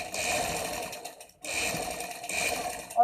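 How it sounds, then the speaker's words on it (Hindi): A sewing machine stitches along the piping of a kaftan dress in close, rapid bursts, with a short pause between runs and a small click at the end. "और बिल्कुल इस पाइपिंग के साथ साथ सिलाई लगाते जाएं।"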